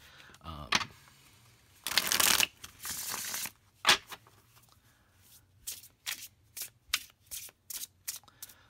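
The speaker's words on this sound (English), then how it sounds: "So it shuffles really nicely" Crisp riffling of tarot cards being shuffled up close, a long burst followed by a string of short, quick flicks, with no one talking.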